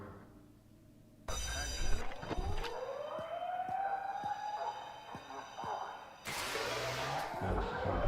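A wailing alarm siren in the video game FNaF Legacy rises and falls in long sweeping tones, loud and close, with a voice talking over it and brief bursts of other game noise.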